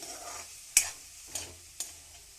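Masala for a Punjabi paneer gravy fries in a pan, with a soft steady sizzle broken by three sharp stirring scrapes, no voices.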